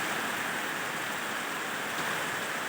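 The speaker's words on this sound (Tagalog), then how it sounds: "Grabe, lakas ng ulan." Dense, continuous downpour roaring evenly without a break, a heavy wash of rain filling the whole space.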